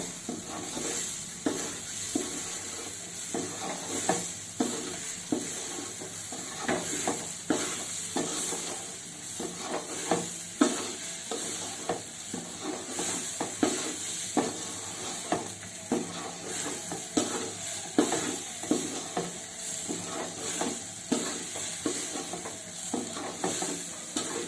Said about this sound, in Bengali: আবারও চালটাকে আমি 2 মিনিটের মতো ভেজে নেব।